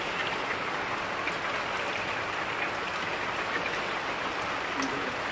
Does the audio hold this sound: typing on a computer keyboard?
no